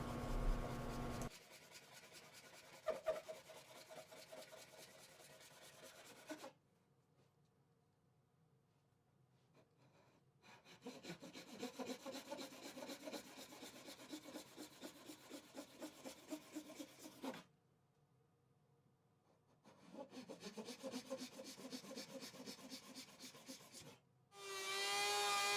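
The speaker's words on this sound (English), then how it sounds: "I figured it would be easiest just to use a handsaw and just saw off pieces" A handsaw cuts pieces off a spruce cone in steady back-and-forth rasping strokes, three long bouts separated by quiet pauses, close and fairly quiet.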